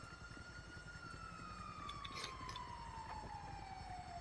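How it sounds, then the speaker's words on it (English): Ambulance siren in Grand Theft Auto 5, a steady wailing tone slowly falling in pitch over a low engine and road rumble, quiet and continuous with no speech. "it's the ambulance!"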